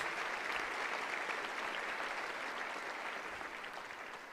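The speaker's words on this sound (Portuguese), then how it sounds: "Vamos aplaudir o querido Patrício" Steady applause from a church congregation welcoming a pastor onto the stage, a dense even wash of clapping that fades slightly toward the end, with no voices over it.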